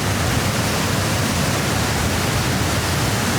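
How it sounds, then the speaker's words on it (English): An Alpine waterfall roars as a dense, steady broadband rush, loud and close, unbroken throughout with no voices. "I'm not normally a fan of waterfalls, but this is all right."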